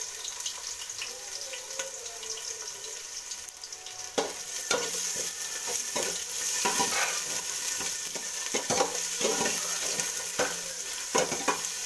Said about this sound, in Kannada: ಈಗ ಇದಕ್ಕೆ ಈರುಳ್ಳಿ ಹಾಕೋತೀನಿ.